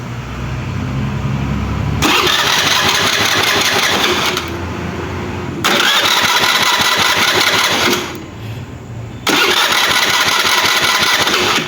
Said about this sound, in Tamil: இப்போ வந்து செல்ஃப் ஒர்க் ஆகுது